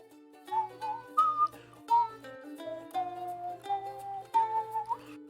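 A single person whistles a low tune in a quiet room, a run of short melodic phrases with a faint rhythmic backing beneath.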